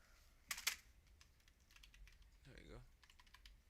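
Computer keyboard typing, a couple of loud clustered key clicks near the start followed by scattered softer taps over low background noise.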